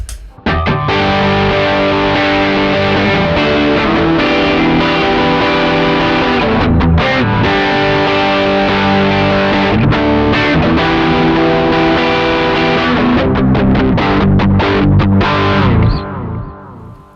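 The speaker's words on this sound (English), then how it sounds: "here's my Rat distortion, which is my heavier of the distortions that are on my pedal board" A heavily distorted electric guitar through a Rat distortion pedal plays loud, thick chords and riffs continuously for several seconds, then cuts off and rings out at the end.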